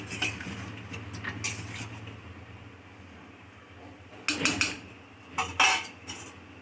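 A metal plate is set over a pot of boiling chicken in a home kitchen, giving a couple of distinct metallic clinks and clatters over a low background hum.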